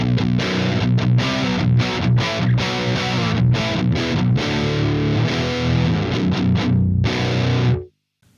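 Heavily distorted electric guitar tuned to standard B through a Marshall 800 amp without a DS pedal, a fast choppy riff of palm-muted chugs and stabs, loud and dense throughout, ending in a sudden stop.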